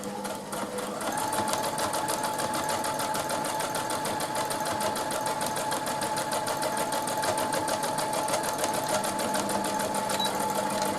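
A domestic sewing machine stitching fabric for washable baby wipes, running in a steady fast mechanical chatter close by for the whole stretch, with a faint hum starting just after the beginning.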